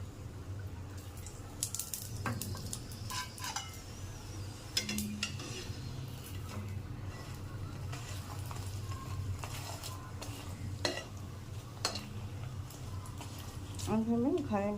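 A paratha frying in a pan makes a soft, steady sizzle with scattered clinks of utensils against metal, all under a voice.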